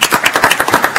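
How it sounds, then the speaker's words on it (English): A brief burst of applause at a county commissioners court meeting, dense overlapping claps from a group, loud and close for about a second. "A round of applause, please."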